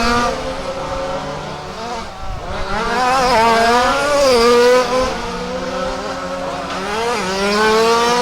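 Rally race cars tearing around Warm Springs Raceway during a championship main event, engines roaring loud and close with rising and falling revs and gear changes, a dense overlapping drone without talk.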